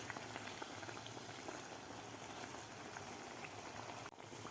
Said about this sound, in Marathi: मीडियम गॅसवरच आता आपल्याला वडे तळून घ्यायचे आहेत.